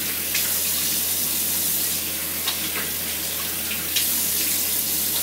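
A bathroom tap runs steadily into a sink while water is splashed onto a face, giving a continuous hissing flow with a few brief splashes on top.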